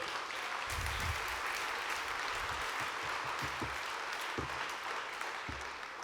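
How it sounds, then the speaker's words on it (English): A quiet audience claps for former NFL player Brian Westbrook at a speaking event. The steady applause sounds a little distant and continues throughout. "Please, another round of applause for Brian Westbrook"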